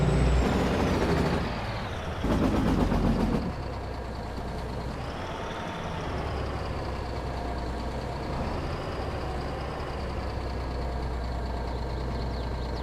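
Truck pulling in on a farm, opening with loud air-brake hisses and rumbling, then a steady engine drone with a faint rising whine, nearby and continuous.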